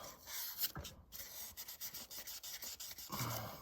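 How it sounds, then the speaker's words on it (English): Polymer clay rondel beads are sanded with 1000 grit sandpaper to remove clay residue, making soft, steady rubbing strokes that come up close and alone in quick repeated passes. "I just take my 1000 grit sandpaper, give it a couple"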